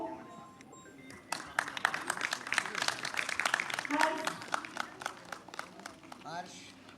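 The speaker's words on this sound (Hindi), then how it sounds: "आपकी तालियां नहीं रुकनी चाहिए, कार्यक्रम समापन की ओर है।" An audience at a youth workshop's closing and certificate ceremony claps in a dense, sustained round, moderately near, with a voice talking over the start and end.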